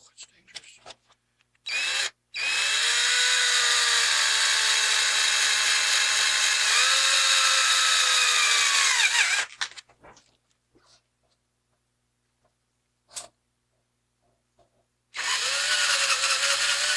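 A power drill bores a hole, whining loudly in two long runs of about two and seven seconds, with a short burst at the end, separated by near silence and a brief knock.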